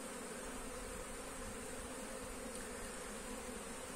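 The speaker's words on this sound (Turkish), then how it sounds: "Erkek arılar gezmeye başlamış" Honeybees, including drones, buzzing around an open beehive frame, a dense, steady, close hum that carries on unbroken with no voices over it.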